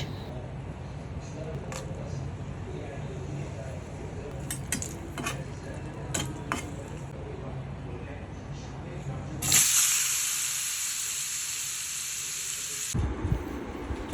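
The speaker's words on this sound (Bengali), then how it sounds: "তেলে দিয়ে ভেজে নিব আর শুরুতে ভেজে নিব তিন চারটা শুকনা মরিচ" Three or four dry chillies hit hot oil in a pan with a sudden loud sizzling hiss that lasts a few seconds, after quieter kitchen clinks and someone talking.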